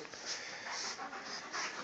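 A dog pants close by, a quick rhythmic run of breathy huffs repeating steadily.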